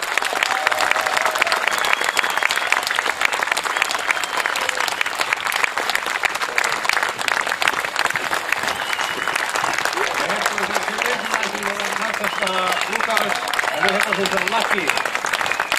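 Steady, dense applause from an outdoor crowd at a medieval horse tournament in Hollola, 2024, sustained for about sixteen seconds after a troupe's performance, with voices talking through it and an announcer heard near the end.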